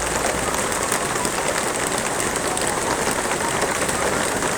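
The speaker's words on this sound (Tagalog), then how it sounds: "bumagsak na naman ang ulan." Steady rain falls outdoors in cold weather, a dense, even hiss of drops on surfaces that stays constant and fairly loud throughout, with no voices over it.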